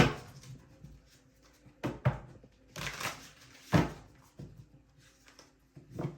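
Tarot cards being shuffled by hand, a run of soft papery riffles and slaps with several sharper bursts spaced irregularly over about six seconds, close and fairly quiet with no talking.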